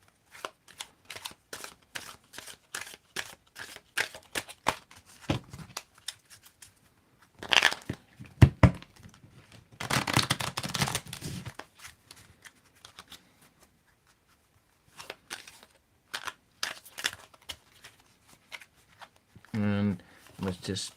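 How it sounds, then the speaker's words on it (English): A tarot deck is shuffled by hand to mix upright and reversed cards, making crisp, close riffling bursts and card taps in irregular clusters, with a person talking intermittently between them. "And let's just mix the cards up again."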